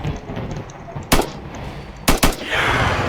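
Gunfire in the Roblox game Survive the Killers, Area 51 map: a single sharp shot, then two rapid shots about a second later, loud and close over a low game ambience.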